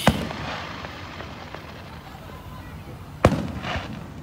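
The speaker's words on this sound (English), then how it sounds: "More of the fireworks going on" Fireworks at a Fourth of July celebration, heard outdoors as a low continuous crackle and rumble with one sharp, loud burst near the end followed by a fading echo.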